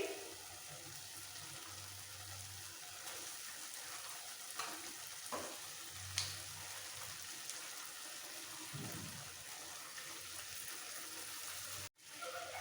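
Marinated chicken with spices sizzles quietly in a pan, with occasional stirring scrapes and clinks, soft and close with no voices.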